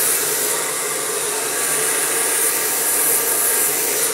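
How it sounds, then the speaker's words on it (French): A hair dryer blow-drying hair straight over a round brush gives a loud, steady whooshing roar that runs unbroken throughout, close to the microphone. "Vous avez vu, je tourne la brosse, je sèche, je lisse et je tourne."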